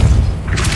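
Depulso spell cast in Hogwarts Legacy, a single low booming thud that rolls into a brief bright whoosh near the end, loud and close with no talk.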